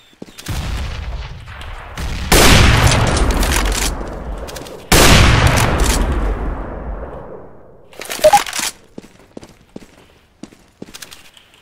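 Gunfire and grenade blasts in the shooter game CS:GO: two long, loud roaring bursts of fire and explosion follow a quieter stretch, then scattered sharp shots and clicks trail off.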